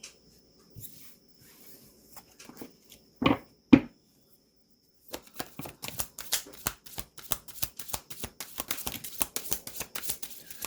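A tarot deck shuffled by hand, with a few soft isolated card taps and slaps first, then a quick run of crisp riffling card flicks that keeps going, close and fairly quiet.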